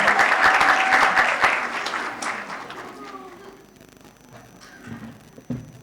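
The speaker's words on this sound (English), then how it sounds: "A big round of applause for Aldrin" A room of attendees at a women in media speed mentoring event claps loudly for a speaker called to the podium, the applause thinning and fading out over a few seconds.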